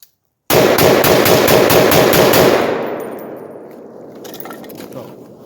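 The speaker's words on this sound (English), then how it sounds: "we're gonna rapid fire this. You guys can watch the muzzle over there, see how much of a rise we get on this 308." A .308 Palmetto AR-10 rifle with a 20-inch barrel fired in rapid succession outdoors: about nine loud, evenly spaced cracks in a fast string, followed by a long decaying echo and the bolt locking back.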